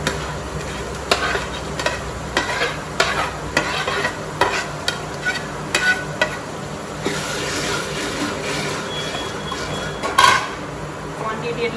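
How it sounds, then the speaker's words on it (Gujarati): Crushed tomato goes into a large pot for sev usal cooked for 8 to 10 people, and a spoon stirs and scrapes against the metal in a steady rhythm over a low sizzle, with a louder clatter near the end. "હવે આમાં આપણે પેલું જે ક્રશ કર્યું હતું એ ટામેટું નાખી દઈશું।"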